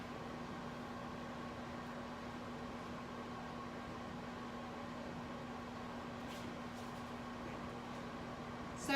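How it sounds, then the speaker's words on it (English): A microwave oven running on high gives a steady, low hum that drones with a constant tone and faint whir, unchanging for several seconds before a small bump at the end. "Place in the microwave and heat it on high for 30 seconds."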